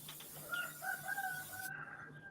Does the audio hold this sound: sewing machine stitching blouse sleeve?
no